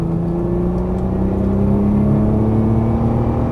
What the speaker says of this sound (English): squeeze on throttle and unwind